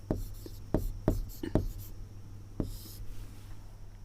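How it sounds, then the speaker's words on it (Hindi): Chalk or marker strokes on a classroom board make a handful of sharp scratchy taps and short scrapes, spaced unevenly over a low steady hum. "उसके बाद मैं यहाँ पे ऊपर लिख दूंगी वनवास"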